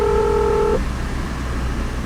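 Telephone keypad tones from a car's phone system, a steady dual-tone beep lasting under a second, then cutting off to a low hum of background noise.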